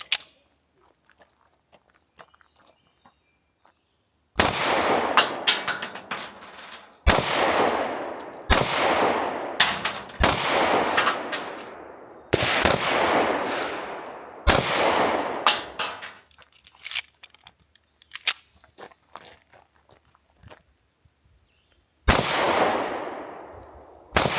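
A 110-year-old original M1911 pistol fires at an outdoor steel target, about ten sharp reports each followed by a ringing metallic clang, spaced a second or more apart with quiet pauses between groups.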